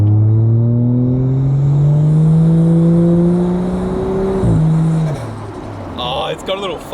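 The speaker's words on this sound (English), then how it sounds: "right now you are hearing the chaser with an exhaust for the first time" Toyota JZX100 Chaser with a newly fitted custom exhaust revving close by, a loud rising engine note that climbs, drops sharply at a gear change, then settles lower as the car pulls away.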